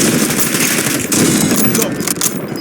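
Rapid automatic gunfire in the Warzone battle royale game crackles in dense, loud bursts that run almost unbroken, with brief dips between strings of shots.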